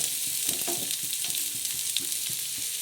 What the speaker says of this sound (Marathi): कांदा बी टाकून देते आता हा कांदा त्याच्यात टाकलाय